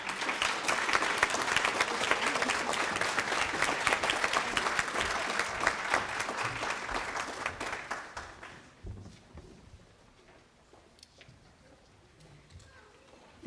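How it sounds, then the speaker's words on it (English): A crowd applauds at a leading women awards ceremony in Harford County, with dense clapping that stays loud for several seconds before thinning out and fading to a few scattered claps. "Please join me in another round of applause"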